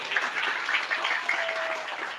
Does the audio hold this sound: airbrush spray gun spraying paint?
no